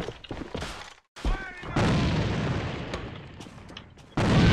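A grenade goes off in a video game as a loud, sudden blast that rumbles away for a couple of seconds, with short bangs and voices before it and another hit at the end.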